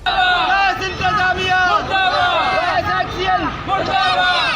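Protesters chant slogans against gas management outside the Sui Northern Gas Company zonal manager's office, a loud, close mass of overlapping shouting voices in steady rhythmic waves with brief dips between phrases.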